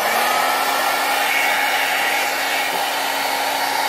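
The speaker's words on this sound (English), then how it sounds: "It gives out a pretty good amount of heat, which is very impressive coming from a very small portable mini hair dryer." A LURA travel mini hair dryer runs steadily close by, giving a constant loud whooshing airflow with a faint motor whine and no talking.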